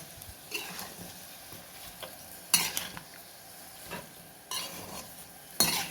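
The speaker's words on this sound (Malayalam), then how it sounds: "ചെറുനാരങ്ങ ഉപ്പിട്ട് വെച്ചത് ഇതിലിട്ട് കൊടുക്കുന്നുണ്ട് എന്നിട്ട് നന്നായി തന്നെ നമുക്കൊന്ന് ഇളക്കി കൊടുക്കാം" Salted lemon pieces for pickle are stirred in a pan. Quiet, intermittent scraping strokes rise over a soft sizzle, and no one speaks.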